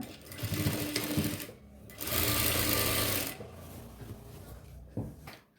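Sewing machine stitching a seam on a yoke nighty, running in loud steady bursts with a short pause between runs and a brief click near the end, no talking.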